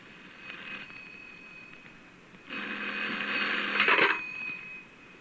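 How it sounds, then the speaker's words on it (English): Telephone ringing in a radio drama, a faint short ring followed by a longer, louder ringing burst that fades out. "As I came in, the telephone was ringing."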